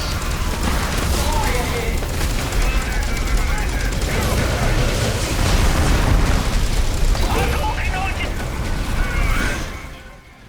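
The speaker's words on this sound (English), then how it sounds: "some of the weapons sound nice and weighty" Weapons fire and explosions from the Dawn of War III strategy game form a dense, loud battle din of overlapping booms, bursts and rapid gunfire that holds steady, then fades out at the end.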